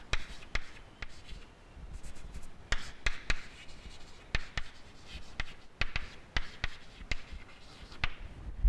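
An equation is written on a board during a physics lecture on central forces, giving quick tapping strokes and soft scratching in irregular bursts, close by, with no talking.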